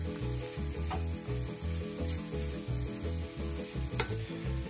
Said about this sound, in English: We're just gonna let those saute in butter, and I have that on a medium-high heat.